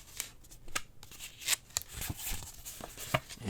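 A paper envelope from a Drive Blu-ray boxset is handled close up, with soft rustles and crisp paper flicks in an irregular rhythm, nothing spoken.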